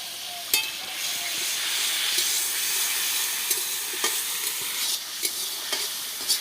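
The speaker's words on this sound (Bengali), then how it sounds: "সুন্দর তেল ছেড়ে দিয়েছে, মশলাটা ভালো করে কষা হয়ে গেছে।" Soybean curry (kosha) stir-fried in oil with spices sizzles steadily in the pan, a continuous hissing fry broken by a few sharp clicks of stirring, with no talking.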